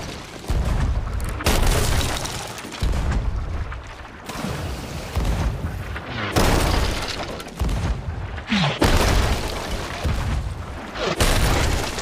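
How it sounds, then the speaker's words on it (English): Ship cannons fire in the pirate game Sea of Thieves, a series of heavy booms with deep rumbling tails, roughly one every one to two seconds, loud and close with no talk. "Going to the cannon to shoot the ship."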